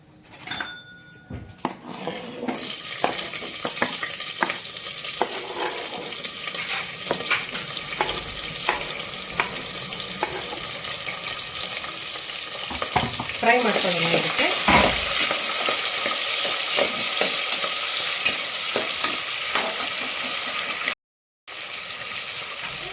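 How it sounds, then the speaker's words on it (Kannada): Onions and green chillies frying in hot oil for kuska rice, a loud continuous sizzle with repeated spoon-stirring scrapes against the pan, close by, briefly cutting out near the end. "ಎಣ್ಣೆ ಕಾಯ್ತಿದೆ ಇದಕ್ಕೆ ಇವಾಗ ಈರುಳ್ಳಿ ಹಾಗೆ ಹಸಿಮೆಣ್ಸಿನ್ಕಾಯಿ ಹಾಕೋತೀನಿ"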